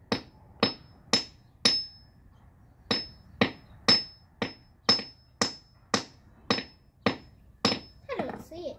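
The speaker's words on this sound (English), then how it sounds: "Hit a little harder." Hammer striking a geode again and again, about fifteen sharp, ringing metallic clinks in a steady rhythm, close and distinct, with a voice briefly at the end.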